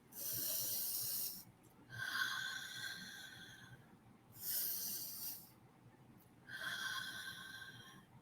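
Slow, deep breaths in and out, four long airy hisses in a relaxed rhythm, each lasting over a second with short pauses between, close and soft with no talking.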